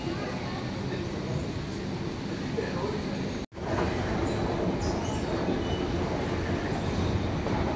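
A Kolkata metro train on the Dum Dum to Howrah line rumbles steadily through a tunnel, a loud continuous roar with a brief sharp dropout midway, heard from inside the carriage.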